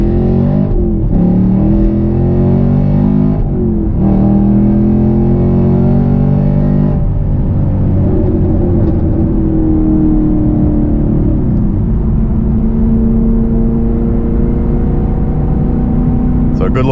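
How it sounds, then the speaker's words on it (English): 2020 Camaro SS 1LE V8 engine accelerating hard from inside the cabin, loud rising revs with quick upshift drops, then a sustained drone as speed builds; a voice talks over it. "Good little pull there so you guys can see the acceleration on the SS."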